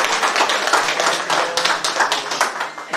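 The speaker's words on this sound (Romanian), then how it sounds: "Să-i felicităm, să-i aplaudăm" An audience claps for high school performers at a festival in Dărmănești, a dense, steady patter of many hands filling the space without talk.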